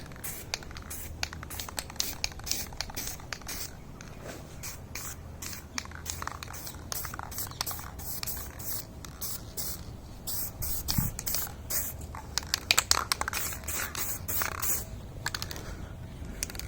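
A spray gun lays a tack coat of paint on a Kawasaki ZX6-R part, making a continuous close hiss broken by short pulses and scratchy bursts that grow a little louder toward the end.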